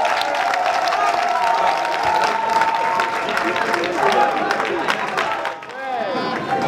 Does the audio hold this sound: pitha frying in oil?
no